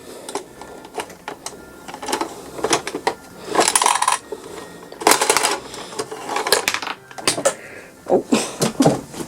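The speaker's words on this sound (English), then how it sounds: "we've got the fruity TBR machine, and we're going to find out what fruit's going to come out" A fruity TBR toy machine dispensing a fruit gives off bursts of plastic clicking, cranking and rattling, with clattering spells separated by short pauses, close by.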